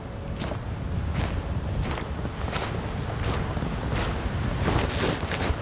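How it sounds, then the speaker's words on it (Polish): Steady wet, sloshing footsteps tramp through a soggy meadow in an even rhythm, mixed with a constant rush of wind noise and no voices. "Słyszeliście to chlupanie?"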